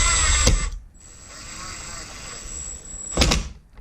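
A power driver briefly whirs to set the neck screws on a Thinline Telecaster guitar, with two short close mechanical bursts at the start and end and a quieter steady tone between.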